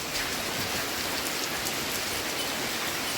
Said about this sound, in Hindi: दोस्तों बहुत ही मूसलाधार बारिश हो रही है